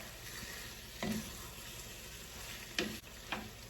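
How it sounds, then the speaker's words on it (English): Bell peppers stir-frying on high heat make a soft, steady sizzle with three distinct scraping stirs spaced apart, close but fairly quiet, and no talking. "In another 2 or 3 minutes on high, we are going to continue stirring this."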